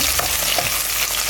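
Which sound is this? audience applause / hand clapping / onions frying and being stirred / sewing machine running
onions frying and being stirred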